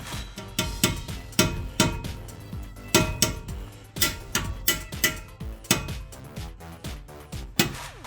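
A rubber mallet repeatedly strikes a polished 5-inch Carven exhaust tip on a 2015-2022 Dodge Charger, producing a close, even series of sharp metallic knocks with brief ringing.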